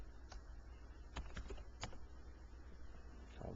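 Faint, sparse keystrokes on a computer keyboard as a command is entered at a quadcopter's CLI, a few scattered clicks over a low background hum.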